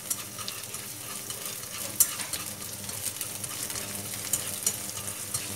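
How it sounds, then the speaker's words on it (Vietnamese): Squid tentacles stir-frying in a little oil in a pan, a continuous close sizzle with small crackles and occasional clinks, no voices. "Mình xào tàu mực trước"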